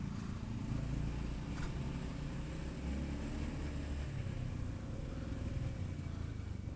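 A Honda Scoopy FI scooter being ridden in stop-and-go traffic gives a low, steady engine drone mixed with road and wind rumble, heard from the rider's position with no talking.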